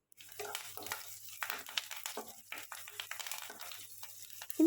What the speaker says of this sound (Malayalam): ചെറുതായി ഒന്ന് ഇളക്കി കൊടുത്തതിന് ശേഷം നമുക്കതിലേക്ക് കുറച്ച് കറിവേപ്പില കൂടെ ചേർത്ത് കൊടുക്കാം